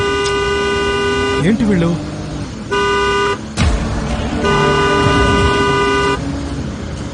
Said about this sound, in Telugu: హార్న్ కొడుతూనే ఉన్నావు